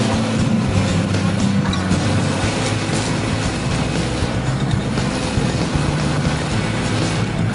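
A Chevrolet Equinox spins its front wheels on a hill, a steady, loud, broadband roar of engine and tire noise that holds constant throughout with no break.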